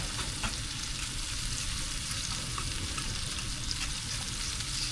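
Chopped onion fries in a pan with rice and butternut squash, giving a steady close sizzle and crackle with occasional stirring scrapes, no voices.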